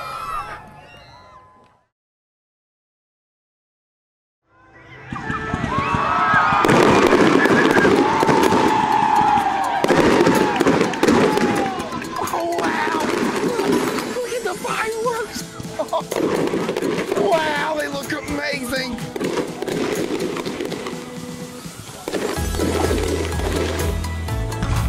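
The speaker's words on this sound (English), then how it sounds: "I knew the Pelican baseball game would have some awesome fireworks." Fireworks after a Pelican baseball game at a July 4th show burst repeatedly in loud, overlapping booms and crackles, with a crowd cheering and screaming beneath them after a brief silent pause.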